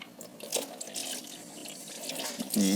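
Fluid from the drain plug of a BMW E39 M5 V8 splashing and trickling into a pan, a faint continuous watery rush that swells toward the end.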